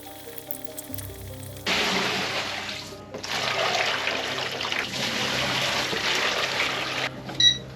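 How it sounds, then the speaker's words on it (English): Water pours and trickles over a large carbon transfer print during rinsing. After a quiet start, a steady close rush of running water breaks off briefly, resumes, and then stops near the end. "And I'll keep rinsing it, soaking it and rinsing it until no more black pigment runs off the print when I hold it up."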